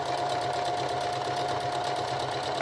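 A home sewing machine runs steadily up close, its motor whirring in an even, continuous drone while it stitches forward and in reverse with no pauses.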